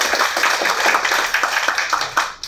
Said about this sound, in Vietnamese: đề nghị một tràng pháo tay